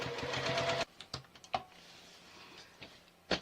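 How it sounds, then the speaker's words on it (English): A sewing machine stitches the bottom seam of a quilted bag in a short rapid burst, then stops, followed by a few scattered light clicks and handling knocks, quiet and close. "So now we're going to sew the bottom portion of the bag as well."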